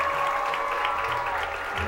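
Big crowd applauding and cheering at a high school homecoming during a football game, steady and loud throughout with a constant roar.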